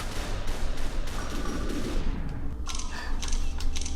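Rapid bursts of stylized gunfire from the SUPERHOT video game ring out loud and dense throughout, several sharp shots clustering toward the end over a constant mix.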